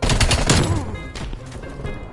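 Rapid automatic assault rifle fire from a first-person shooter video game, a dense burst of close, loud shots at the start that thins into scattered shots and faint distant gunfire.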